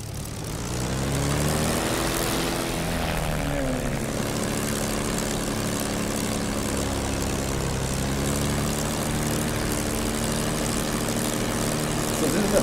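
Engine of a TF-51 Mustang WWII propeller plane in the DCS flight simulator, a loud continuous droning roar with harmonic whine, steady throughout with slight pitch shifts as it runs.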